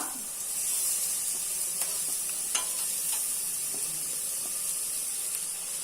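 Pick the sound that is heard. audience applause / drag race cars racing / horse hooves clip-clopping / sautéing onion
sautéing onion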